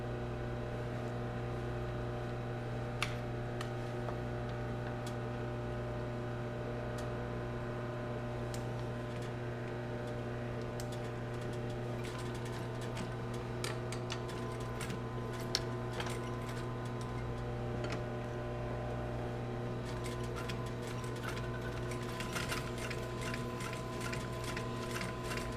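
A sewing machine stitching a leather bag strap, running with a steady hum and a rapid, even ticking of the needle that carries on for a long stretch, close and fairly quiet, with no talking.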